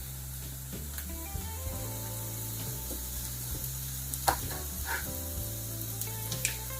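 Home-grown chilli goes into a sizzling pan for spicy pumpkin soup in a French cottage kitchen, with a low, steady frying hiss under a background hum and a few brief clicks and scrapes.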